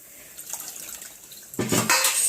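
Utensils clink against each other at first, then a tap gushes onto steel vessels being scrubbed in a home sink, the water splashing louder and nearby.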